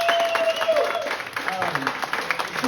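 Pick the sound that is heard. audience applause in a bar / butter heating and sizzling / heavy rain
audience applause in a bar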